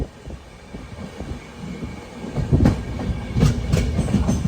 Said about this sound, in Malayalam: നീലേശ്വരം റെയിൽവേ സ്റ്റേഷനിലേക്ക് നമ്മുടെ ട്രെയിൻ എത്തിക്കൊണ്ടിരിക്കുകയാണ്